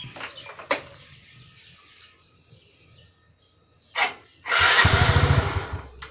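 Yamaha Fino scooter that won't start, being cranked: a few short clicks and a brief starter whir, then a longer loud cranking burst with a rapid pulsing chug near the end, close by.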